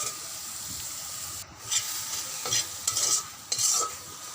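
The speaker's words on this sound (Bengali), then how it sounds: "এবার একসাথে আমি এটাকে ভেজে নিচ্ছি। এটাকেও লাল করে ভাজতে হবে।" Vegetables seasoned with salt and turmeric hiss in hot oil as they are stirred in a pan for a teasel gourd and prawn dish, a close sizzle broken by several sharp scraping stirs.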